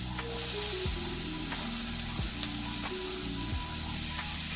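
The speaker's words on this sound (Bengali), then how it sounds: "এবার আমি ক্যাপসিকাম দিয়ে দিলাম" Capsicum going into a pan of frying onions while making a homemade pizza topping, a steady close sizzle with stirring scrapes and a few sharp clatters, no voices.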